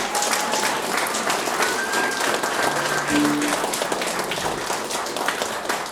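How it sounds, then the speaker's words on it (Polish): Concert audience applauds Przemek Polański at a folk band concert in the Krosno public library, dense steady clapping filling the whole span at even loudness, with faint voices mixed into the crowd. "myślę, że tu się należą wielkie, wielkie brawa"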